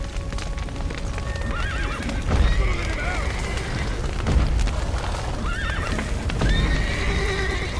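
Horses in The Witcher 3 whinny repeatedly in loud rising and falling neighs. Hooves stamp and rumbling booms sound beneath a dense, chaotic game soundscape.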